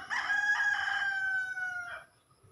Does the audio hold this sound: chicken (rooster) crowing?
yes